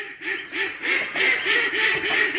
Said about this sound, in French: Ah, mais mes canards, ils sont pas contents.